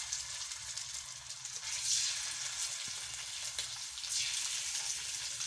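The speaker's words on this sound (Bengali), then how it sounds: "উল্টে পাল্টে লাল লাল করে ভেজে তারপর তুলে নেব" Hilsa fish pieces fry in hot mustard oil in a wok, giving a continuous loud sizzle with a faint stir or clink now and then.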